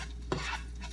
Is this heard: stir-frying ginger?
yes